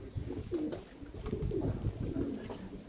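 Pigeons coo softly in a low, steady murmur of overlapping calls near a rooftop loft, heard alone without talk.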